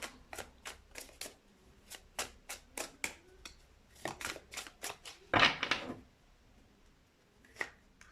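Tarot cards are shuffled and drawn by hand in a quiet room, a close series of sharp riffling snaps in uneven bursts, with a louder, longer shuffle in the middle.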